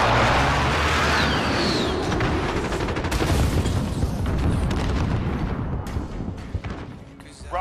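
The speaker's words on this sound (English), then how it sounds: "Friendly precision airstrike on the way." Precision airstrike explosions in a multiplayer shooter video game, with heavy booms and rapid gunfire bursts rolling together loudly, then thinning out toward the end.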